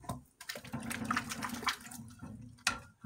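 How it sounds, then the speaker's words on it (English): Water drains and trickles off an overturned glass candy dish, close by and fairly quiet, with uneven splashing and dripping over a few seconds. "Turn it over, let the water drain out there"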